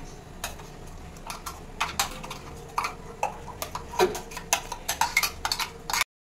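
Ground chutney being spooned into a bowl, heard as a quick irregular series of sharp clinks and taps, close and fairly crisp, with no talking.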